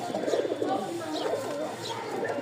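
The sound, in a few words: male pigeon cooing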